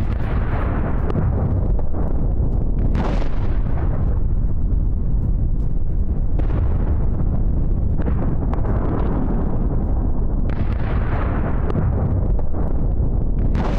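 Air strike explosions on a Houthi military facility near Sanaa, Yemen: loud, sustained booming rumbles with repeated heavy bursts, continuous roaring blasts and wind buffeting throughout, no speech.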